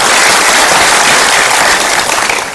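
Loud, dense applause from a large seminar audience at a Mario Teguh Golden Ways talk, many hands clapping in a steady wash that holds full strength, then begins to thin slightly near the end.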